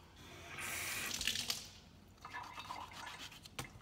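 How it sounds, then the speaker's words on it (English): Tap water runs at a sink while strawberries are washed, a close splashing rush that fades, then lighter trickling and drips follow. "I'm so slow at cutting strawberries and washing them."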